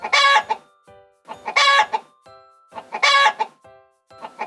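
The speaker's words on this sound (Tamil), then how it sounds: "நான் தான் கோழி. மெலடி பாட்டு மாதிரி பாடுவேன்." A chicken clucks loudly and close in three repeated bursts, each a run of sharp, strained calls followed by short drawn-out tones, with brief pauses between bursts.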